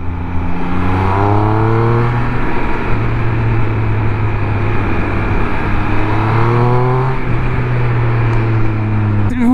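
A Triumph Speed Triple 1200 motorcycle pulls hard with a rising engine note, then a quick-shifter upshift drops the pitch before it climbs again through another gear, loud and close with no talk.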